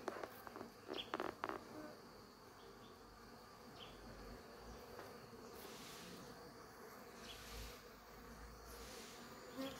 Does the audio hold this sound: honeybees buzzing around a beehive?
yes